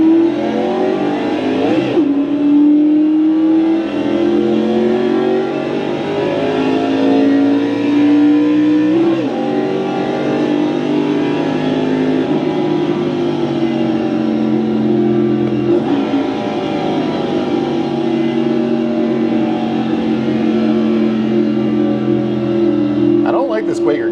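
A race car engine in the iRacing game at Daytona revs and accelerates out of the pits, a loud, continuous whine climbing through repeated gear shifts, with someone talking over it.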